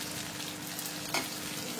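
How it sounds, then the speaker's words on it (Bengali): Close, steady sizzling from onions frying in a pan, with a brief scrape partway through. "এটা চিকেনের জন্য পেঁয়াজ ভাজা হচ্ছে।"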